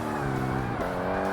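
A Mitsubishi 4G63-style engine from a car in the 2005 Xbox game Forza Motorsport, a steady buzzing, layered whine at high revs that dips briefly in pitch midway, loud and continuous.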